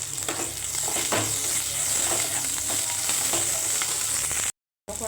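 Curry leaves, slit green chillies and ginger pieces fry in hot oil with a loud, steady sizzle that crackles throughout, cutting out briefly near the end.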